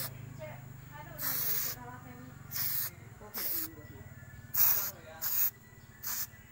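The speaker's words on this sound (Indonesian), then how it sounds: "mau saya semprot samar-samar saja" Paint is sprayed from an aerosol can onto a refrigerator door handle being refinished, in several short hissing bursts of varying length. A voice talks quietly between and under the bursts.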